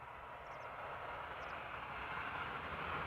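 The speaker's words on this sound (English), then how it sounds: "Our first airplane to arrive is Air Europa, flight 1091, arriving from Madrid." An Air Europa Boeing 737-800 airliner arriving at Amsterdam Schiphol produces a steady, broad roar of jet engine noise that holds at even loudness throughout and swells slightly toward the end, with no talk.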